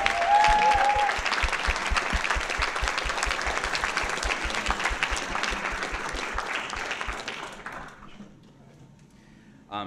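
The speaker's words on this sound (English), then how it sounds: "One round of applause for all these awesome people." Award ceremony crowd at a hackathon event applauding honorees, a dense roar of many clapping hands with rhythmic group clapping in a steady beat, gradually fading out near the end.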